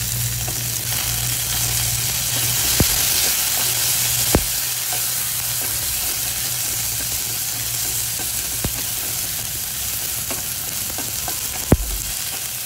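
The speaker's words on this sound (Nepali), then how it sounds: "अब अलिक प्याज फरिएपछि चाहिँ त्यसमा टमाटर हाल्यो" Tomato added to fried onions sizzles steadily in a pan for an okra curry, a continuous close hiss with a few sharp utensil taps scattered through it and no talking.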